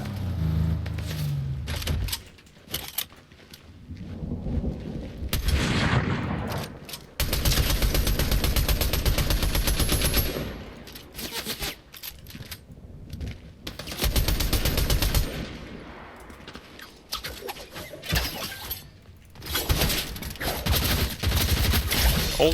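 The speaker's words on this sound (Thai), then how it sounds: "โอ้ยโดนยิง โดนยิง โดนยิง" Dense, sustained bursts of gunfire strike the player in a Fortnite Zero Build ranked match, loud and close, coming in several heavy waves with brief pauses between them.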